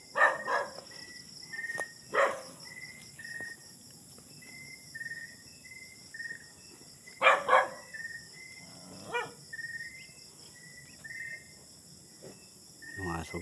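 A dog barks in short bursts at a rural spot with abandoned nipa huts, barks spaced several seconds apart and fairly close, over a constant chorus of crickets and insects.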